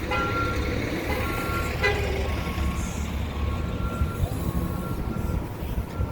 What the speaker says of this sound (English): So what you're hearing is all the buses, obviously,